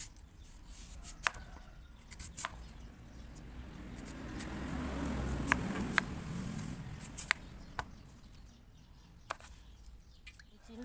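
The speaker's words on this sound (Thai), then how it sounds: "เราก็จะมาหั่นมะม่วงแก้วขมิ้นกัน" A peeled, washed Kaew Khamin mango is sliced into pieces with a knife, giving sparse, soft clicks and cuts spaced a second or two apart over a low, steady background rumble. Nobody speaks.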